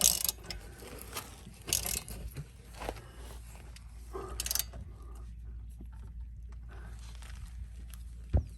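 A ratchet wrench tightening a front wheel hub, giving bursts of quick metallic clicks and clanks up close, then quieter handling noise, with no speech.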